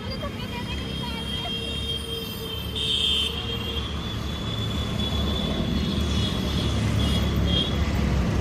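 A metro train at a metro station in the early morning, a steady low rumble with rail hiss and a brief higher squeal, continuous throughout with faint voices mixed in.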